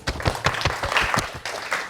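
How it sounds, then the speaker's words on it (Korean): Applause from a lecture audience at a marine protected areas public talk in Busan, a short burst of many hands clapping with some faint voices underneath. "박수"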